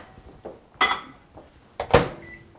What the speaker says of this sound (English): we're going to just put that in the microwave for about 20 seconds